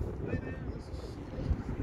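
Strong wind buffets the microphone beside a lake while out crappie fishing, a continuous low rumbling roar with gusts throughout and a brief louder thump near the end.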